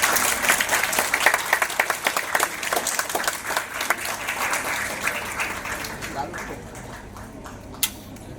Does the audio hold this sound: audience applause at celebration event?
yes